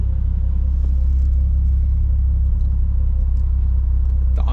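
Nissan Skyline fitted with an HKS Hi-Power 409 exhaust and JJR front pipe idles with a steady, deep low rumble, close and constant throughout, with a faint higher clatter near the end.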